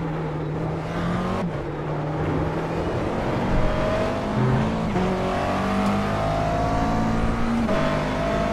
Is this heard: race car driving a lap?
yes